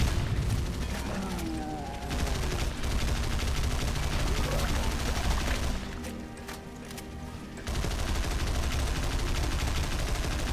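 Rapid SMG gunfire in the video game God Mode, sounding as loud, dense, sustained bursts with a brief quieter lull midway before the shooting resumes.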